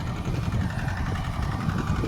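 A tractor engine idles nearby on a cotton farm with a steady low rumble and light vibration, running evenly without pause.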